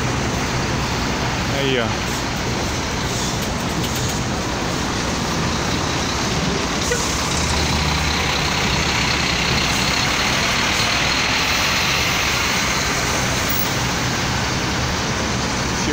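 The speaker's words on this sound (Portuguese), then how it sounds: "Chegando muitos carros aqui." Many cars and trucks arriving in a busy restaurant parking lot along a highway in Guararema, São Paulo, a continuous loud traffic rumble with engines and air brakes, as someone speaks briefly over it.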